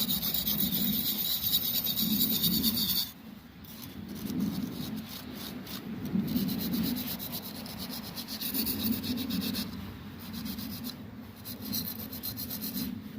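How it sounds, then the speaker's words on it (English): A brass wire brush scrubs rust off a steel motorcycle fuel tank, giving a continuous close, raspy scratching that shifts in intensity with the strokes. "Just going to use a brass wire brush to start off with."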